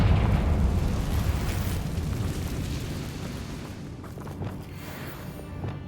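A Confringo fire spell explodes in the Hogwarts Legacy video game, a loud broadband boom that rumbles on and slowly fades over several seconds, with no voices.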